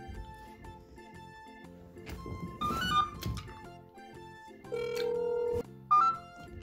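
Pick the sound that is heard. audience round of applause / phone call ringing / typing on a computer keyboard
phone call ringing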